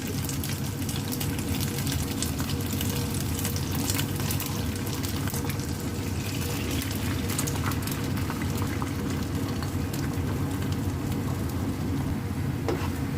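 Pork and egg cooking in a pan give a steady, dense sizzle and bubbling that holds at an even level throughout, close and uninterrupted.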